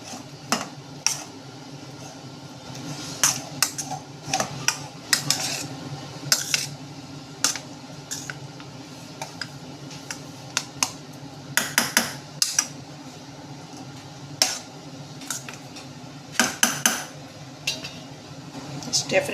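Chitranna being stirred and fried in a pan, a spoon scraping and clinking against the metal in irregular sharp taps and rattles over a low steady hiss, close by.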